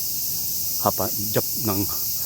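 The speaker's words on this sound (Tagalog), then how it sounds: "Tapos ang daming kuliglig." Dense cricket chorus on palace grounds in Tokyo in the afternoon, a steady high-pitched trill throughout, with brief soft voices passing over it.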